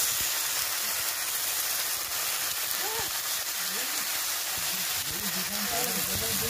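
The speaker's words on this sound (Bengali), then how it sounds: "এখন দিচ্ছি স্বাদ মতো লবণটা দিয়েও কিছুক্ষণ ভেজে নেব।" Crab curry with pui greens and spices sizzling in oil in a pan, a steady hiss and crackle like light rain, continuous and moderately quiet, with a person speaking over it intermittently.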